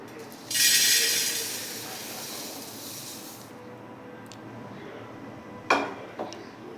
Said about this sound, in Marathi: आता आपण यात मुरमुरे घेतलेले आहेत।